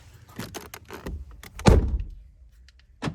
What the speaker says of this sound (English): Close the door, lock it, unlock it, start it.